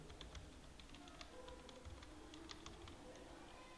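Steady, rapid key clicks from someone typing on a computer keyboard, close and continuous over a faint background hum, with no talking.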